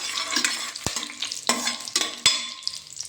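Cumin seeds fry in hot oil for mushroom biryani, a close steady sizzle broken by a few sharp stirring clacks of a spoon against the pan, no voices.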